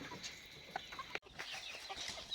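Four-month-old country chickens and multicolored roosters cluck in short, close bursts, with one brief cut partway through.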